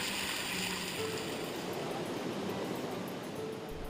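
A small creek, the Itapecuru stream in Correntina, Bahia, in the Brazilian cerrado, flows with a steady, broad rushing wash that holds even throughout, close and fairly loud with no voices.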